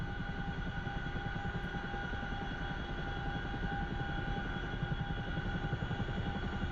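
A military aircraft in the DCS World flight simulator on an Afghanistan map makes an emergency takeoff: a steady engine drone and whine holds at an even level for the whole stretch, with no voices.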